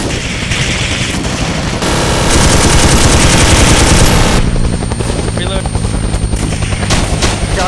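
Machine gun covering fire in a Vietnam-era forward operating base defence video game: loud, continuous automatic bursts, close and overlapping, with a sustained roar from more distant gunfire and aircraft, while voices shout over the battle.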